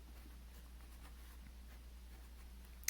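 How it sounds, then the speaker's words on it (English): Pencil scratching on paper while working through a math problem, a faint, continuous dry rasp over a steady low electrical hum, with no talking. "Oh, my pencil's not really working."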